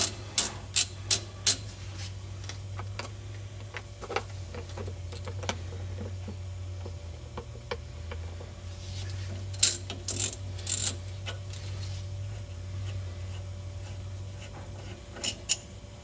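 Ratcheting wrench clicks while loosening a brake caliper bolt on a 2006 Chevy HHR LX, sharp metallic clicks in quick bursts over a steady low hum, close by, with quieter spells between.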